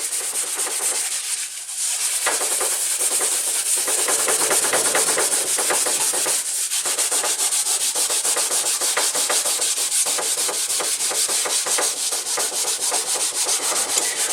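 A Norwex cloth scrubbed hard back and forth across a surface, a loud, continuous rasping rub with fast regular strokes running without pause throughout.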